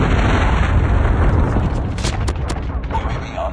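A predator missile explosion in the Call of Duty Mobile video game, a loud, rumbling blast with dense low roar, followed by a few sharp cracks of gunfire as the noise fades.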